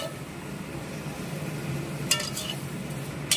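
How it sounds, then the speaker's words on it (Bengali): Spice paste for biryani is sautéed in a pan with a steady low sizzle and stirring, plus a couple of sharp metallic clinks near the end. "এই যে মশলা কষানো চলছে"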